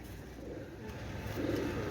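A pair of red-necked pigeons coo softly nearby, low throaty calls repeating under a steady background hum, swelling louder toward the end.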